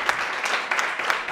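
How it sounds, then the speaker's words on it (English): Brief burst of comedy club audience applause, quick scattered clapping from a crowd, moderately loud and alone. "keep that applause going"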